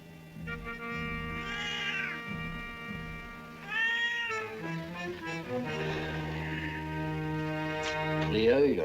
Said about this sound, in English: Leo, you're a silly old fat cat.